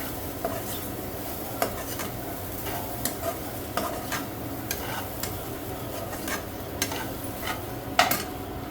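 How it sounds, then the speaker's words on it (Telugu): Chana dal and coconut curry with salt being stirred in a pan, a steady scraping and scooping with soft sizzling underneath and occasional sharper clinks of a spoon against the pan, close by with no talking. "కొంచెం సాల్ట్ అన్నీ వేసుకొని చక్కగా మిక్స్ చేసుకోవాలి."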